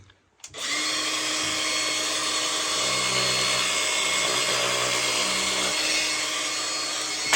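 A Makita power tool runs steadily on a piece of lead for lead work, a loud continuous buzzing whine starting after a brief quiet moment and holding evenly to the end, with no talking.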